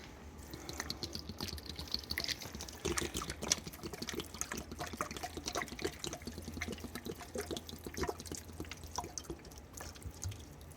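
Water pours and trickles steadily while the water in a ball python enclosure is changed, with soft dripping and splashing that stays fairly close and quiet throughout, and no one speaking.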